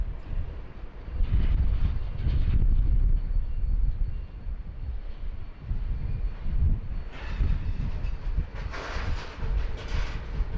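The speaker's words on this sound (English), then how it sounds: "next arrival here, Uniform Yankee X-Ray Phenom 300. Just about to land here on 16 right." Phenom 300 business jet landing on runway 16 right at Sydney Airport in windy, rainy weather, a steady engine roar that swells and lingers, with wind and rain noise mixed in.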